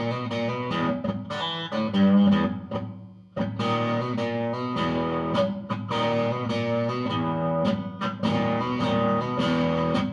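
A distorted, echoing guitar plays a steady strummed pattern, its tone hollow and boxy as if heard through ductwork, with a brief pause midway.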